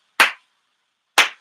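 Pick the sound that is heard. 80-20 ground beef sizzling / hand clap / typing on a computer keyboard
hand clap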